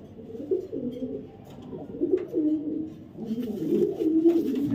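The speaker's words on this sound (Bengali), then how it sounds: "বিবেক বুদাপেস্ট একটা নর কবুতর" A male Budapest pigeon and others coo in soft, rolling low phrases, repeated several times in close succession with brief pauses between.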